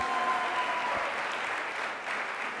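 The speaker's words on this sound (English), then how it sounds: "one more round of applause for her" Sustained applause from an audience at the Kalasha International Film and TV awards ceremony for a lifetime award winner, a dense, steady wash of many hands clapping that stays even and fairly loud throughout.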